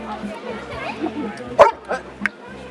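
Dog at a village harvest festival by a school, giving one sharp close bark followed by a couple of softer yips amid people talking nearby.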